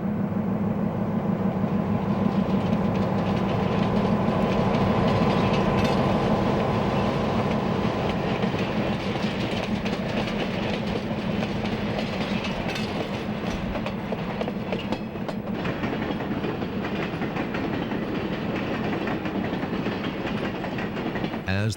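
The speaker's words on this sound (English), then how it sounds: "A B&O switcher moves a cut of 5 cars." A B&O switcher locomotive hums and rumbles as it moves a cut of five freight cars, with clicking wheels and occasional clanks, steady and fairly close for the whole stretch.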